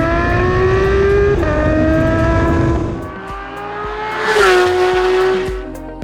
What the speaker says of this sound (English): listen to the engine growling away, howling away